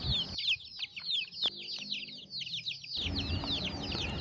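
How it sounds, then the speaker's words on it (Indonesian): Chickens on a poultry farm, kept without intensive care and in poor condition, cluck and squawk in a rapid, overlapping chorus. The calls are close and loud over quiet background noise. "di sini akan kita lihatkan yaitu contoh-contoh ayam apabila tidak perawatan yang intensif akibatnya seperti ini ya"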